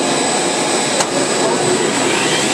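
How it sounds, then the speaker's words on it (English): Table saw and shop vacuum running together in a workshop, a loud, steady roaring whine with one brief click near the middle. "So now the vacuum and the table saw are plugged in."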